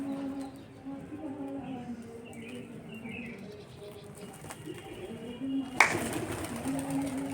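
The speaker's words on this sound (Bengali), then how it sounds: "এখানে 6টা পায়রা" Pigeons, six of them, flap and shuffle nearby with soft cooing and wing flutters, quiet overall with a sharper burst of movement near the end and faint background voices.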